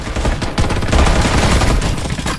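Gunfire in the video game Farlight 84, a loud dense burst of rapid automatic shots with overlapping bangs sustained for a couple of seconds before cutting off.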